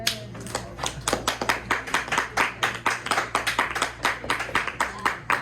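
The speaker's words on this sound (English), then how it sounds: "Give yourself a round of applause." Students in a classroom clap in a short, uneven round of applause, sharp hand claps repeating close by, a steady low hum underneath throughout.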